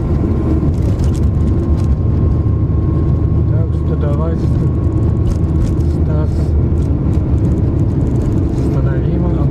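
A car drives through a heavy Siberian blizzard, a steady loud engine and wind roar filling the whole stretch while someone talks over it.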